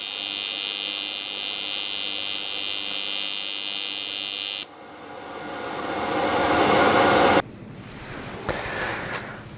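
A Parweld XTT212 P welder runs AC TIG at 50 and 100 Hertz, giving a steady harsh electrical buzz that cuts out, then a rising hiss and crackle of the arc, and a short burst of crackle near the end.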